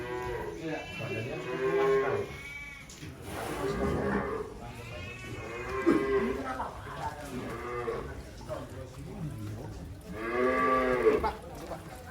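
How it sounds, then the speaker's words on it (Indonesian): Cattle moo several times in long, drawn-out calls in a village barn, close and loud, with brief pauses between them and a few faint voices in the background. "ini ada sapi mirip Condrosimo ya di kandang desa."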